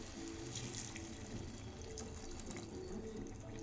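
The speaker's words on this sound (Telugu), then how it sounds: "కొన్ని వాటర్ పోసేసుకుందాం." Water pours steadily into a pan of mango and brinjal curry, a faint, continuous liquid trickle with no other sounds.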